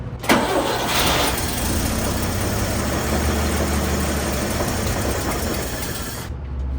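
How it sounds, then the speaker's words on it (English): A 1960 Chevy C10 pickup engine, a barn find, cranks over and catches, then settles into a steady, smooth idle that runs loud and close for several seconds before cutting off. "the motor sounds really healthy"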